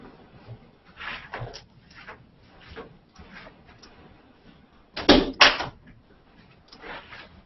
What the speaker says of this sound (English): Okay, I'm going to close the door.